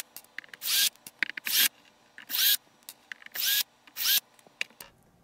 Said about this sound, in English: I'm gonna get my power drill because it's what I have handy by